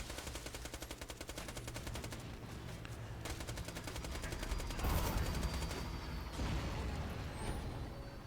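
Rapid automatic gunfire from Hyperion guns in Borderlands 2 rattles on without a break, loud and dense, with heavier bursts and blasts toward the middle.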